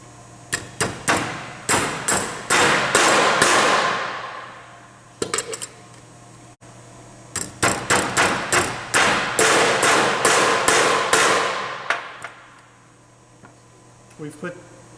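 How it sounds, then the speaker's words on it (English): A hammer knocks down the remaining metal clips and rivets of a Riv-Nail belt fastener in two long bursts of rapid, sharp metallic blows. The strikes come close and loud, with a few scattered taps between and after the bursts. "We'll take our hammer and knock the rest of the clips down."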